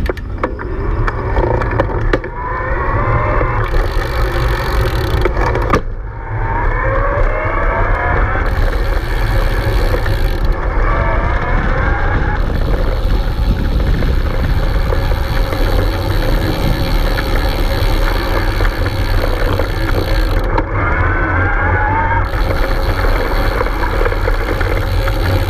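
A Haibike XDURO Urban S RX electric bike's small-sprocket motor whines steadily at high revs while riding, its rising and falling tone sitting over continuous loud wind and road rumble.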